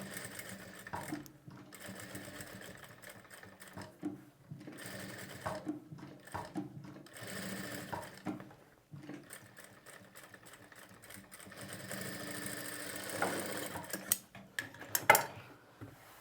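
A sewing machine stitches a decorative border onto a blouse, its rapid mechanical chatter running in bursts with brief pauses and small clicks between runs, moderately close and with no talking.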